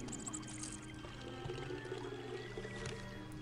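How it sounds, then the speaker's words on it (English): Water pours steadily into a canteen in the video game Indiana Jones and the Emperor's Tomb, a soft continuous splash and trickle at low level against a faint game ambience. "I can use this water to fill up my canteen."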